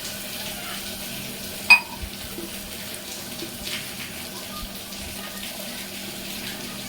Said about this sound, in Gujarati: જે મિક્સર જારમાં આપણે મસાલો બનાવ્યો હતો એમાં 1 કપ જેવું પાણી એડ કરી